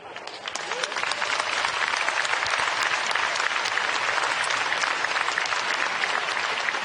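A large audience at a Bitcoin conference breaks into sustained applause, loud and steady across the whole stretch, with dense clapping and a little crowd noise and no one talking over it.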